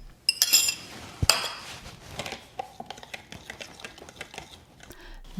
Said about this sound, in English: Stir until everything is combined.